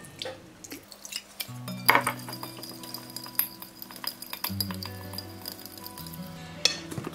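Cider vinegar being whisked into a vegan salad dressing in a bowl, with light clinks and taps of a utensil against the dish over steady background music, close and fairly quiet, no talking.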